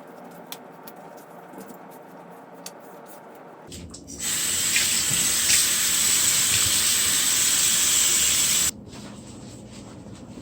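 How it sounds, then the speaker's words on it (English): Water sprays steadily into a kitchen sink for several seconds while fish is rinsed with salt, a loud even hiss that starts and stops abruptly against quiet background noise. "you're just gonna use the salt to rinse the fish"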